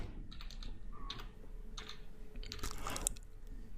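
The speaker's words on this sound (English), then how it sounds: "I'll just type in Google" Typing on a computer keyboard, a few close quick bursts of key clicks separated by short pauses, crisp and fairly quiet over a low background hum.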